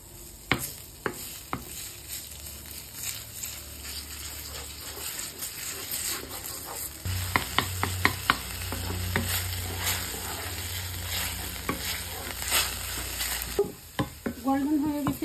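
Garlic sizzles in melted butter in a pan, a steady frying hiss broken by repeated scraping and clacking as it is stirred, close and clear with no talking.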